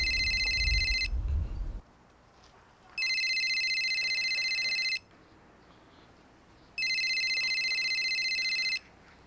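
A telephone in a Korean sitcom rings loudly in three long electronic bursts of about two seconds each, separated by quiet pauses, after a brief low rumble at the start.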